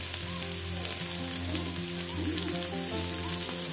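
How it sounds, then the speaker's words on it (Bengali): Pumpkin frying in a pan with mustard seeds makes a close, steady sizzle and crackle that carries on without pause and without voices. "মিষ্টি কুমড়া ভাজি করবো।"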